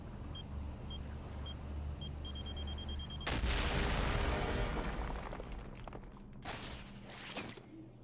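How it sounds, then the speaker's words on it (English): A bomb goes off in a video game: after a soft electronic beeping and low hum, a sudden loud broadband blast booms and rumbles for a couple of seconds, followed by a second burst of noisy crackle. "That's a bomb."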